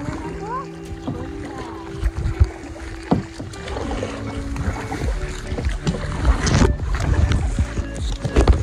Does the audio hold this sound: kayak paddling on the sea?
yes